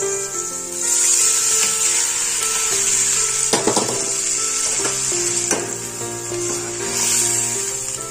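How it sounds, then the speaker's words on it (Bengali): Dal poured into a pan of hot turmeric tempering sizzles steadily and loudly at close range, with scattered clinks and scrapes of the pot and spoon and no talking. "এবার আমি এর মধ্যে দিয়ে দেবো ডালটা"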